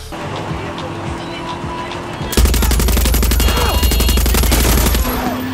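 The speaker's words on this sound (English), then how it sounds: "the guns sound fantastic" Rapid automatic gunfire in the Far Cry 6 video game bursts in loudly and stays dense and continuous for several seconds, following a quieter stretch of engine rumble and game sounds.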